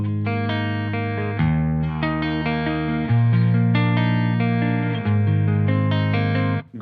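An electric guitar plays through an amp's clean channel, sustained chords ringing out loud and close with a shimmering effect, changing every second or two and cutting off at the end.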